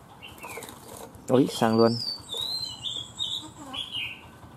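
A freshly caught mộc dở songbird beats its wings in a loud flurry close by, then gives several thin, high chirps, with a brief voice heard.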